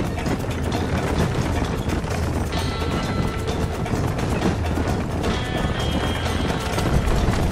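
Galloping horse hooves in the video game Red Dead Redemption, a fast continuous clatter of hoofbeats with faint game ambience and no talking.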